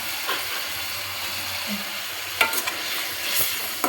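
A pot of food bubbles and sizzles steadily on the stove as white salt is added, with soft stirring and a couple of sharp clinks close by.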